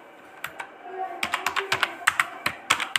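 Fast, crisp keystrokes on a computer keyboard tap out a rapid, fairly regular run of clicks, close and clear with no one speaking.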